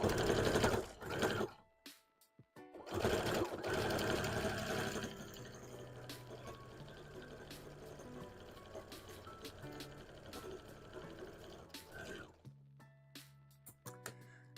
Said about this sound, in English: we'll sew up this side, and then we'll sew both sides together.